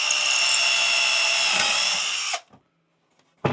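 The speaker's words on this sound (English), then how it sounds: "but I do need to drill through it." Sundpey 21V cordless drill bores through wood with a loud, steady high-pitched whine that stops abruptly, followed by brief handling knocks and near silence.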